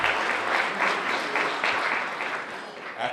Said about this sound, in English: Let's give Antietam Cable a round of applause